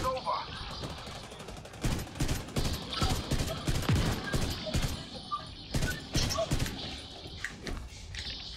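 Rapid bursts of gunfire in a co-op video game boss fight against the Iron Horse, with sustained volleys and explosive hits running under frequent talk between players.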